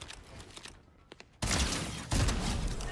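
Shotgun blasts from the Cerberus shotgun in Fortnite: two loud broadband bursts in quick succession close to the listener, preceded by a quieter stretch of faint game noise and brief clicks.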